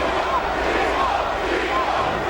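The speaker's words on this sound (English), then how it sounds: "Crowd saluting Timo." A large baseball stadium crowd roars and applauds steadily for a pinch hitter at a Mets home game, a dense continuous cheer with faint voices mixed in.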